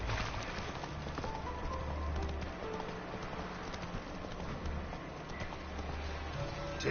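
Roach the horse galloping in The Witcher 3, a continuous muffled drumming of hooves under a wash of ambient noise and low rumble, fairly steady and mid-distance, with no clear voices.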